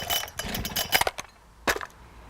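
A chainsaw sputters in short, uneven bursts, as if struggling to start, with a brief pause before a final cough.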